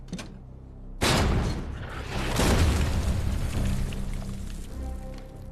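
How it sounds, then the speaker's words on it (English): German artillery counter-battery fire in World War II: after a quiet start, a sudden loud blast hits, a second heavy boom follows shortly after, and a long, rumbling wash of noise slowly fades. "German counter-battery fire also opens up"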